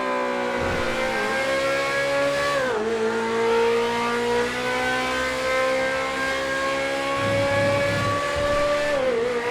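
In GTA 5, a 2023 Chevrolet C8 Corvette Z06 engine drones loud and steady at high revs, its pitch rising and dipping through gear shifts, with brief tire noise underneath.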